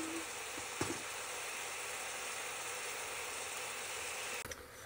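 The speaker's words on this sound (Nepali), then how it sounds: "अघि पोलेको चिकन पाक्दैछ" Pre-fried chicken sizzles steadily in a pan while it cooks at home, a continuous close hiss with a couple of brief knocks and a clatter near the end.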